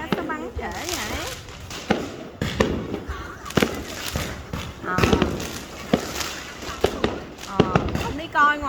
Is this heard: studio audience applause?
no